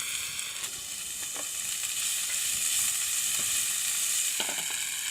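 Vegetables seasoned with paprika, pepper and salt fry in a pan while being stirred, giving a steady close sizzle with a few soft scraping strokes and no voices.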